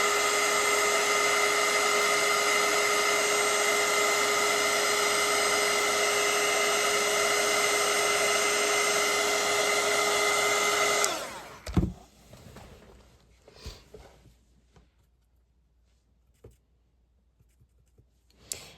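A hair dryer blows on wet watercolour paint while a bow is being painted, a loud steady whir for about eleven seconds that cuts off abruptly, followed by a few faint handling knocks and taps.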